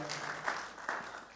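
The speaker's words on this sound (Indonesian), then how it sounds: "Ayo beri tepuk tangan yang meriah bagi Tuhan kita." Brief burst of clapping from a church congregation during a Sunday service, moderately loud and diffuse, lasting just over a second.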